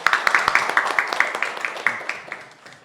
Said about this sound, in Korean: 저희에게 각자에게 박수 한번 부탁드리겠습니다